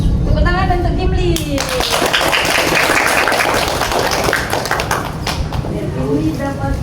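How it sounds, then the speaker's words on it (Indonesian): Primary school children in a classroom clap for a classmate, a short burst of brisk, loud, close clapping with children's voices and talk around it. "Tepuk tangan untuk Kimli."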